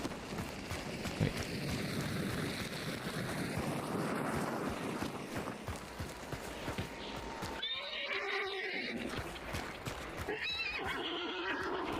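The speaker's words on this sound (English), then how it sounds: "Activate the horse so everyone can hear me." A horse in the video game Yakuza 0 whinnies loudly over steady wind and hoof clip-clop, with a clear neigh rising near the end, no talking.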